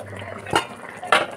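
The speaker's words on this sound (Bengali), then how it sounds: "এবার আপনি ঢাকাটা খুলে দেখে নিই মাছটা কতটা রেডি হয়েছে" A lid is lifted off a pan of mustard-sauce parshe fish, giving two short metallic clanks about half a second apart over a faint background hum.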